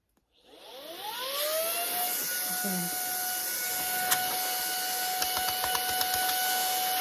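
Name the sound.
Brigii M1 handheld vacuum cleaner running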